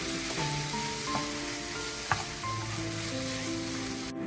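Minced chicken is stirred with a spoonful of tomato sauce in a pan, a steady dense sizzle running throughout with faint spatula scrapes and small clinks over it, no voices.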